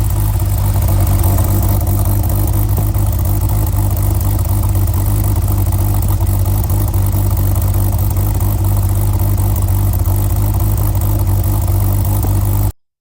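A 1986 Porsche 911 Turbo with a four-speed manual idles steadily up close, its low engine rumble continuous and even for the whole stretch before cutting off at the end.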